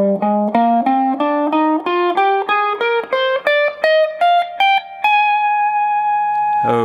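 Electric guitar with effects playing part of a solo, a rising run of quick sustained notes that climbs and ends on a long held tone, loud and close.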